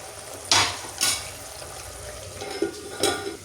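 A masala for Kerala-style sardine (mathi) curry is stirred and sautéed in a pan, with several distinct scraping strokes of the spatula against the pan over a soft, steady sizzle.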